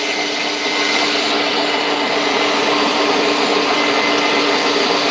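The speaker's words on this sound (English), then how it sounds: "we have to get the meat down to engage with the auger" An electric meat grinder's auger runs loud and steady while grinding bratwurst meat, a constant whining drone that holds without pause from start to end.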